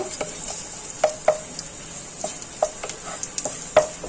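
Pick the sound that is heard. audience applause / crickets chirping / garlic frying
garlic frying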